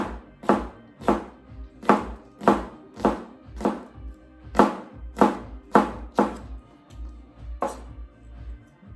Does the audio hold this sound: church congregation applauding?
no